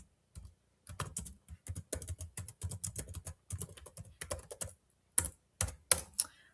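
Someone types on a computer keyboard, quick irregular bursts of light clicking keystrokes with short pauses between runs, close and fairly quiet with no talking.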